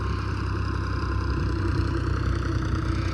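Tractor engine running steadily nearby in a village yard, a loud low chugging idle with constant rumble and no change in pace, no talk.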